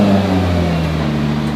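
Nissan GT-R with VR38 twin-turbo V6 being driven out of a trailer: a loud, steady engine drone with a low hum and slight revving, close by and alone.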